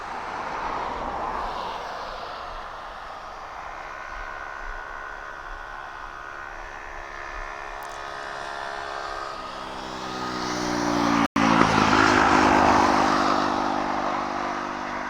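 A jet aircraft landing at East Midlands Airport on a warm, dry night, a steady broad engine roar with rising whine tones that swells louder toward the end as the plane passes close by.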